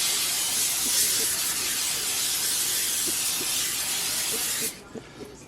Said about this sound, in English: let's give this pan a little spray so the meatballs don't stick